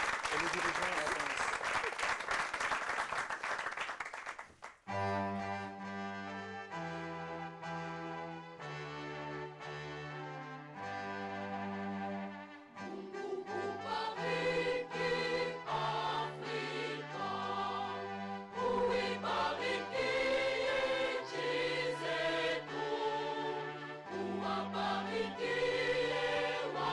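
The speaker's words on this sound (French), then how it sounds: "On acclame très fort pour la chorale pendant que les dirigeants avancent." An audience at a Christian variety concert applauds a choir with loud, dense clapping for about five seconds, then the choir's singing and music take over.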